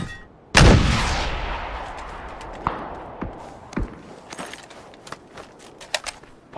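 Mortar fire in a video game: one loud, heavy blast that rolls off into a long decaying rumble, followed by several fainter distant thumps and cracks.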